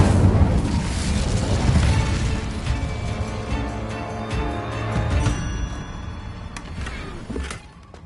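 In Hogwarts Legacy, an Incendio fire spell erupts with a loud whooshing burst that rumbles and crackles, slowly fading over several seconds before cutting off.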